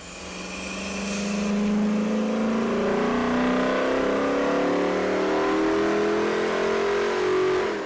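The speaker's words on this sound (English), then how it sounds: "During a 40-minute break-in at varying speeds, the Cop Charger sure has an arresting sound" A Dodge Charger police cruiser with performance upgrades runs on a dyno during break-in, its engine revving up and holding a loud, steady drone with rising tones and no talking.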